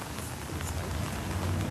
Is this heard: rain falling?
yes